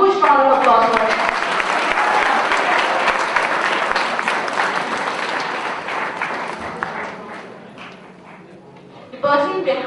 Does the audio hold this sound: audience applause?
yes